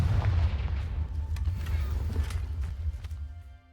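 A Confringo blasting spell cast in Hogwarts Legacy bursts out as a heavy, booming blast with a deep rumbling body that rolls on for a few seconds before cutting off, with no voices over it.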